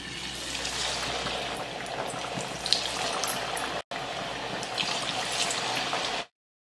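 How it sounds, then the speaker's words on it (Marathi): Moong dal vada frying in hot oil gives a steady, close sizzle and bubbling hiss that continues without a break for about six seconds and then cuts to silence, with no one talking. "तेल छान तापलंय. आता आपण वडा सोडू."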